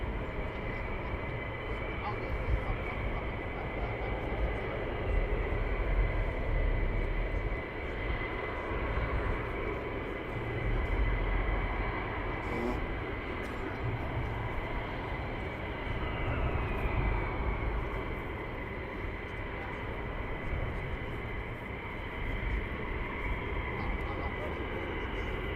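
Military jets taxi at RAF Lakenheath with a steady engine drone and whine at a moderate distance, holding level throughout while a voice talks faintly in the background.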